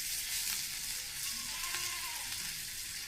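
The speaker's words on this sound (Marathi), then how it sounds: "तर आता माशाचे तुकडे जे मसाले लावलेले ते टाकू तेलात" Spiced catla fish pieces frying in hot oil on a tawa over a wood-fired stove make a steady, close crackling sizzle that runs unbroken throughout, with no voices.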